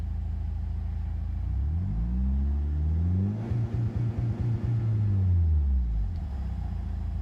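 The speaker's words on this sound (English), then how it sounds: "it's going to engage the two-step at that set RPM" A Mitsubishi Evo 8 engine held on two-step launch control, its revs climbing and then crackling in a rapid stuttering burst of limiter pops before easing off, loud and close with no talk.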